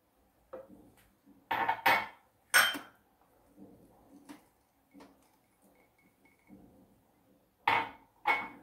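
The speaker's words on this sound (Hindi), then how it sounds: "और इसको कंटिन्यू हमें ऐसे चलाते हुए बहुत कम गैस पे इसको पकाना है।" A spoon stirring milk and milk powder in a pan over low heat for gulab jamun, making scattered metallic scrapes and clanks in short bursts separated by near silence.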